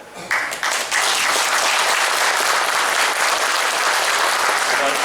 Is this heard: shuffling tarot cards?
no